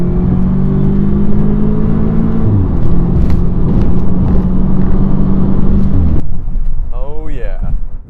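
A 2015 Audi S3 engine rises hard during an acceleration pull, with a loud, close rumble and a climbing whine. The engine noise then drops into quieter road noise.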